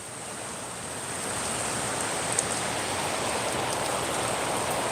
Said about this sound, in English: especially the rain that we're getting up here today